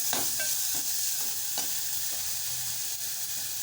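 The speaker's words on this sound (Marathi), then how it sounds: "आता मी मिश्रण एकजीव करून देत आहे" A green chili, ginger, garlic, curry leaf and coriander paste is stirred in a hot pan. A steady sizzle of frying runs underneath a few soft scraping strokes of the spoon. Close and even throughout, with no voices.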